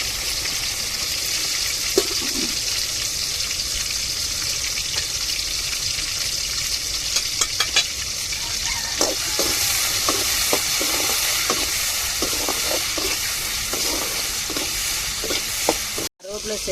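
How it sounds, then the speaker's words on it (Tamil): Mustard seeds and urad dal fry in hot oil in a home kitchen, giving a steady close sizzle throughout with scattered crackles and stirring clinks, and no talk. "இப்போ எண்ணெய் சூடேறிட்டு நம்ம கடுகுளுந்து சேர்த்துக்கிடுவோம்."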